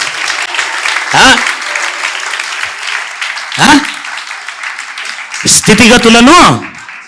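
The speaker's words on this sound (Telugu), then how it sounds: "కొట్టండి భార్యలందరూ చప్పట్లో" An audience at a church praise gathering claps continuously and densely, while a voice breaks in loudly several times over the applause.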